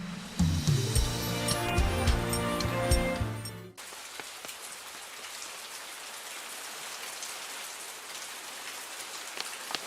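Rain falls steadily, a dense hiss of drops on surfaces that takes over after a few seconds of musical score, continuing evenly to the end.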